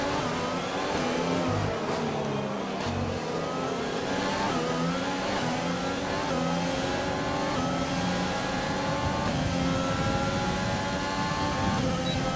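Formula 1 car racing in F1 2020 at the Mexican Grand Prix, a loud, continuous high-revving engine whine that rises and shifts in pitch as cars pass, dense and close throughout.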